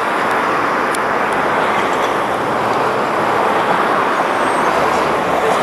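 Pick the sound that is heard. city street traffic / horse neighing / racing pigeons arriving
city street traffic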